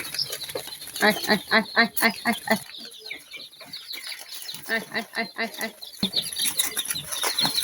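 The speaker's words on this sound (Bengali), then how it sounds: "এই যে লাইসুবিট বাচ্চারা মুরগির বাচ্চারা খাবার দিতেছি" Chicks in a poultry brooder chirp and cluck busily while being fed, in quick overlapping bursts, close by, with a stretch of quieter moments and someone talking in between.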